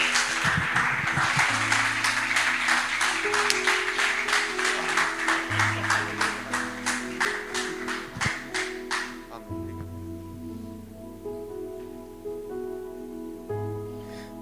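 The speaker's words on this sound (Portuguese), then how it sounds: "Então receba ele com alegria, com aplauso." A church congregation bursts into loud, sustained applause with scattered cheers, the clapping strong for several seconds and then thinning out as organ or keyboard chords play underneath.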